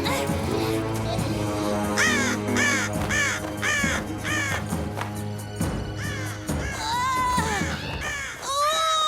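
Cartoon birds caw harshly and repeatedly as they attack, a dense flurry of rising squawks over a busy orchestral score, growing shriller and more frantic toward the end.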